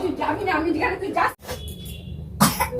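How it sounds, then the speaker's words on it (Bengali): A boy with a bad cold coughs at home, a brief harsh cough or two near the end, with close-up talking before it. "কাশি হচ্ছে খুব ঠান্ডা লেগে গেছে ছেলেটার"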